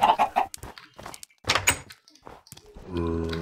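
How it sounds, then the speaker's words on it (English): Minecraft chickens clucking in the game, a few short clucks and thunks in a busy stretch, followed by a steady harmonic tone at the end. "Come here, chickens."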